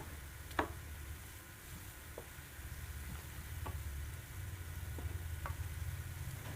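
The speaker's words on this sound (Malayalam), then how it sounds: "ഇതിനെ നമുക്ക് മീഡിയം ഫ്ലെയിമിൽ വെച്ച് ഫ്രൈ ചെയ്തെടുക്കാം." Malabar unnakkaya banana snacks fry in hot oil over a medium flame, with a steady quiet sizzle and occasional soft taps as the pieces are turned.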